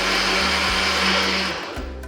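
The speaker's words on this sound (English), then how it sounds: "So we're just blending everything together." A blender whirs through a nut gelato base, a loud, steady motor whine with a dense grinding rush that shifts pitch slightly as the mixture churns, then dips near the end.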